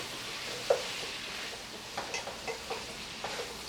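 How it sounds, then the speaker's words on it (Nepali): Spice masala for goat-head pickle fries in a pan, giving a soft, steady sizzle while a spoon stirs it with light, repeated scraping taps, close but quiet, with no talk. "अब यो मसलालाई राम्रोसँग यसलाई एकछिन फ्राई गरौँ"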